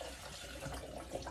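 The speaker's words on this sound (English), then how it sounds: "I'm going to add a couple cups of the coconut water" Coconut water pours steadily into a container of almonds, a continuous close splashing trickle with no talk.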